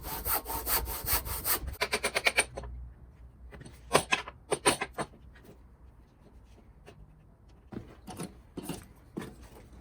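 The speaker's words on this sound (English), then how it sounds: "I've clamped them together so that I can just do one cut and do 2 pieces of wood at the same time." A handsaw cuts through two pieces of wood clamped together, starting with quick rasping strokes, then slower separate pushes and pulls with pauses. It sounds close and moderately loud, with no talking.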